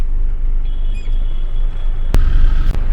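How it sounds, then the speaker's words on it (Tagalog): Road traffic rumbles continuously close by near the airport in Kashmir, a low steady drone of engines with a short horn-like tone and a sharp burst near the end. "Yan, medyo traffic na dito sa part na to."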